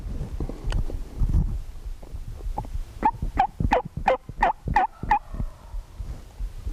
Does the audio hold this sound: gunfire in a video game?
no